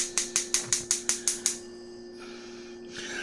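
Gas stove burner igniter clicking in a home kitchen, nine quick evenly spaced sharp clicks over about a second and a half, close and fairly loud, followed by a quiet hiss and faint soft noise.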